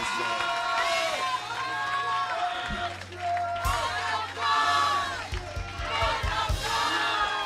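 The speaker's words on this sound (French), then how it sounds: "Acclamez très fort les seigneurs" A church congregation at a camp service shouts and cheers in loud acclaim, voices rising together in waves over sustained music, with bursts of louder cries near the middle and end.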